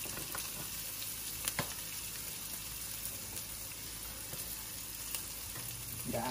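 Onion and garlic sauté in a hot pan for a Filipino sipo egg dish, giving a steady, soft, close sizzle with a few faint scrapes and clicks.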